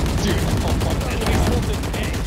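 Rapid gunfire in a Valorant ranked match on the Fracture map, a dense rattling stream of sharp shots running steadily throughout the clip at a close, loud level.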